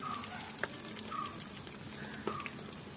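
Fish fries in a pan with a steady, soft sizzle, heard close but fairly quiet, with a few faint clinks and brief scraping touches over the continuous crackle.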